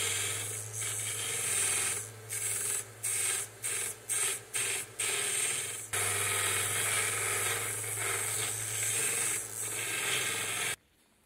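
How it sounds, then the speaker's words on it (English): Hand sanding of flashing along the edges of cast copper bars: steady rasping scrapes broken by a run of short, rhythmic strokes, close and fairly quiet, with no talk. "I just have to sand away this flashing on the edges."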